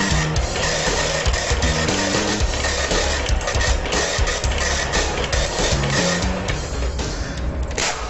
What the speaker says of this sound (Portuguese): Eu vou agora fazer uma demonstração da impressão que é feita através dessa impressora.